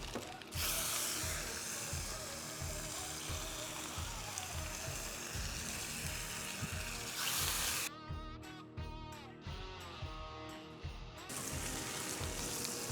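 Bacon sizzles on a griddle in a continuous crackling hiss, with brief clicking and scraping of a tool partway through.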